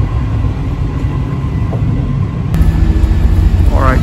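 Passenger train running on the Abeokuta–Ibadan railway in Nigeria, heard as a steady, loud rolling rumble with rattling that swells slightly in the second half.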